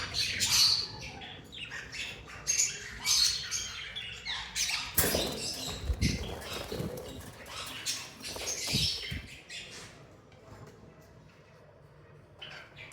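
Pet birds, fallow and dominant pied breeders among them, squawk and chirp in cages at a pet shop in Islamabad, with sharp bursts, wing flutters and scratching patter at close range, quieter toward the end.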